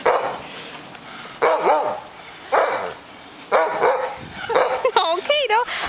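Several dogs bark in short bursts, with yips and a few whimpering, whining calls among them, close and fairly loud amid a noisy household. No talk is heard over them.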